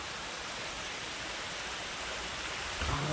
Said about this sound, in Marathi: पाऊस पण आला